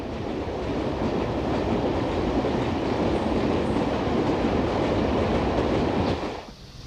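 A train rolls along rails on the roughly 12-hour journey from Xi'an to Hanjiang, its loud, continuous rumble and rattling wheel noise filling the clip before fading abruptly near the end.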